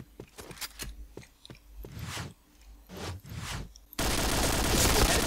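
Point Blank gunfire: a quick run of sharp, close shots and bursts, followed by a sudden loud wash of steady noise.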